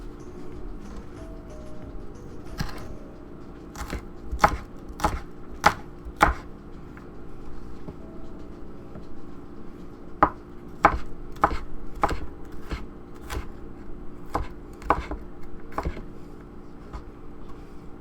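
Sharp knife chops on a cutting board as garlic and onions are prepared for a Mexican lasagna, coming in quick clustered runs of strikes with pauses between, close and fairly loud in a quiet kitchen.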